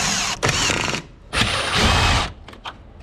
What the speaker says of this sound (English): and you take out all the screws for the headlight.